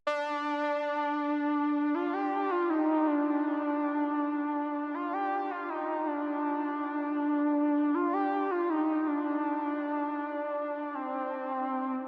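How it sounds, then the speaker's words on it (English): Bright 70s analog synth lead in a trap remake, playing a smooth melody of held notes with pitch slides, clean and prominent, alone without voices. "I found this 70s analog lead and then I came up with this very nice lead melody"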